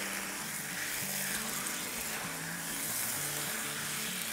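Marinated chicken and onions fry over high flame in a handi, with a steady, close sizzle and a low background hum. No one speaks.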